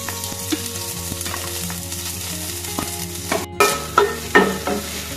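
Onion sizzles in hot oil in a pan with cloves and cardamom, steady frying hiss broken by the scrape and knock of stirring that grows louder toward the end.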